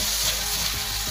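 Finely chopped carrot and capsicum sauté in a hot pan, a loud steady sizzle with faint stirring taps underneath, heard close and without talk.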